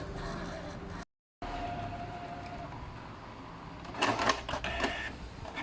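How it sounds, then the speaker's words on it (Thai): A Canon inkjet printer with a clogged print head runs a test page, giving a steady mechanical whir and then louder rattling bursts from the moving head and paper feed, close by with no talk. "เดี๋ยวเครื่องจะพิมพ์เทสออกมาให้เราดูนะครับ"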